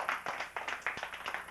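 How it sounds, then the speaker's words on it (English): Small audience clapping for two volunteers called up at a home gathering, a sparse, uneven patter of hand claps at moderate distance, fairly quiet and brief. "let's give them both a big round of applause"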